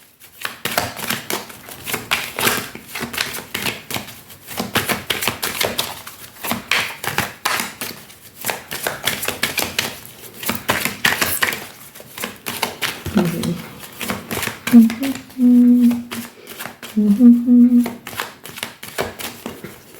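Crisp, continuous riffling and slapping of a tarot or oracle deck being shuffled and cards being laid down for a five-card draw, close up, with a few short voiced tones near the end.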